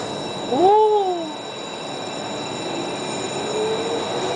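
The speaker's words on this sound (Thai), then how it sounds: "ไม่มีคนขับครับ เป็นระบบอัตโนมัตินี่เราอยู่หน้ารถนะฮะเนี่ย" Driverless automated metro train in Singapore running along with a steady rolling rumble and a brief rising wheel squeal near the start, heard from the front car with no talking.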